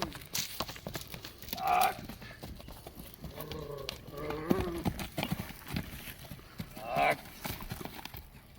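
A horse moves about with faint, scattered hoof clip-clops, heard outdoors at a distance under people talking.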